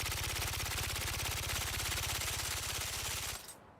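A submachine gun fires in the video game Dune Awakening as one sustained rapid burst of evenly spaced shots, loud and close, lasting over three seconds before cutting off abruptly.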